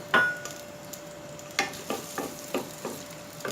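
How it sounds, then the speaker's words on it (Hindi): Onions browning in melted ghee for a Chinioti mutton kunna give a quiet, steady frying hiss, broken by a few distinct stirring scrapes and clicks at close range, with no talking. "ऑनियन ऐड करके इसको हल्का सा प्याज को ब्राउन कर लेंगे"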